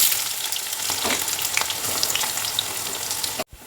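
Onions sizzling in hot oil in a pan after green chillies have been fried, a close, continuous crackling fry with small pops that cuts off abruptly near the end.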